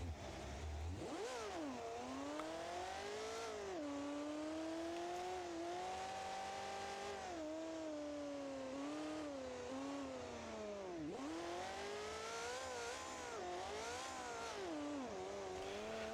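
A naturally aspirated V10 monster truck engine in BeamNG.Drive revs loudly and continuously, its pitch climbing, falling and surging again in repeated sweeps with no talk over it.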